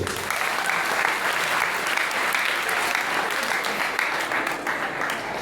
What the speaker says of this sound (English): Can you please clap for that boy?